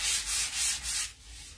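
Sandpaper rubs back and forth across a gesso-coated painting board, four close rhythmic strokes of rasping scrape followed by a lighter, quieter pass, with no speech.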